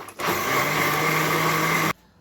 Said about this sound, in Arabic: هنضرب بقى كل المكونات دي في الخلاط